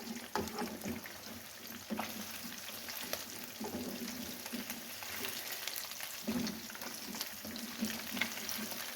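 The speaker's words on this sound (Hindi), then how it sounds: "बड़ी ज़बरदस्त फ़िश फ्राई हुई है" Rohu fish pieces fry in a pan of oil, a low steady sizzle with soft crackles and occasional stirring scrapes, heard close and fairly quiet without talk.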